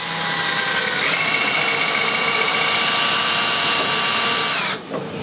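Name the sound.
power tool cutting a hole for a door lock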